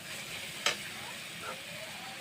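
Boiled taro flowers tipped into a pan of sizzling spice paste, giving a sharp thump followed by a steady, soft frying hiss and faint stirring.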